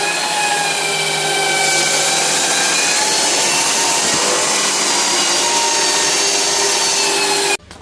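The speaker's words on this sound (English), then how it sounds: "So we've brought this sander. It's quite good. It's got a vacuum attached to it where it should suck up all the dust" Electric sander with an attached dust-extraction vacuum working over a painted stairway wall: a steady, loud motor whine with a gritty abrasive hiss, running continuously close up before cutting off abruptly near the end.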